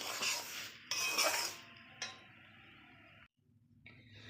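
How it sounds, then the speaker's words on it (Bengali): A spoon scrapes and stirs fried semolina in a pan, giving bursts of gritty rasping and clinking against the metal, with pauses and a quieter stretch between strokes. "ভেজে রাখা সুজিগুলো দিয়ে দিলাম, দিয়ে আবার 1 মিনিটের মতো নাড়াচাড়া করে নেব।"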